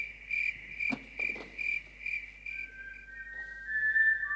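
A high, steady whistle pulses in a regular rhythm, then gives way to a longer sustained tone that slides upward near the end.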